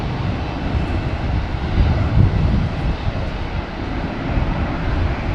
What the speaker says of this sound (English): taking off there, another Qantas 737